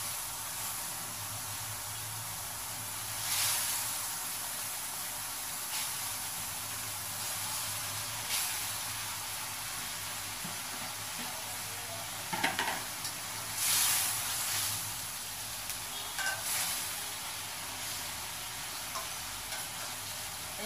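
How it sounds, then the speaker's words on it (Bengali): Fish frying in a cooked-down spice masala, a soft steady hiss and sizzle with occasional stirring clatters, fairly quiet and without speech. "তো মাছগুলি দিয়ে দিচ্ছি, মশলাটা কষানো হয়ে গেছে।"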